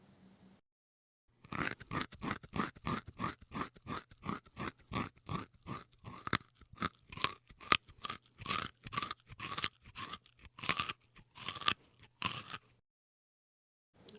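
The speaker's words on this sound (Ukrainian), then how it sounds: "Це зайчик гризе гілочку." Rapid, repeated crunchy gnawing bites of a hare chewing a twig, close and quiet, in uneven bursts of small scraping chews with short pauses between.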